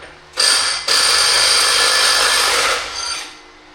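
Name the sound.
loosening the CVT clutch nut on a CFMoto Uforce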